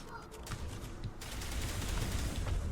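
Shotgun blasts against Geth enemies in Mass Effect 1 Legendary Edition on Insanity difficulty, loud and dense, with rapid overlapping bursts and combat noise that swells into a sustained barrage partway through.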